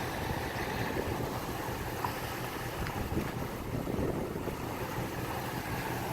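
A Dodge 5.7 V8 idles quietly with the hood up, a low, even rumble held at a constant level for several seconds without revving or voices.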